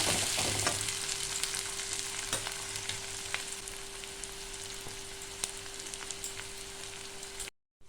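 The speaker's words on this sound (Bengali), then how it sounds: "এবার দিয়ে দেবো একটা পেঁয়াজ, অল্প একটু হালকা ভাজলেই হবে পেঁয়াজটা।" Sliced onion fries lightly in hot oil in a pan, a soft, even sizzle with faint occasional clicks of stirring against a low steady hum, ending abruptly.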